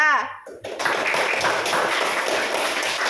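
Classroom applause for a student group: dense, sustained clapping from many hands in a room, starting after a brief spoken word and continuing steadily and loudly to the end.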